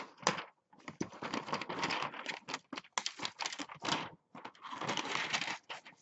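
A knife cuts into the plastic blister packaging of a 2002 Hot Wheels toy car pack, producing close, busy crinkling, scraping and crackling in dense bursts with brief pauses.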